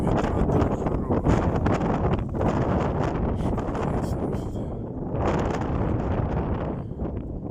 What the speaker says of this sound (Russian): потому что ветер сильный